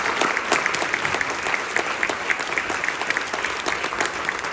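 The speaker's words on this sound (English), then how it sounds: "Can we give one more round of applause for all three bands?" Audience applause after a school band concert featuring three student bands, a dense steady wash of many hands clapping throughout, fairly loud and sustained with no voices standing out.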